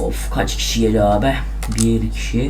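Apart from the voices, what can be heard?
computer keyboard typing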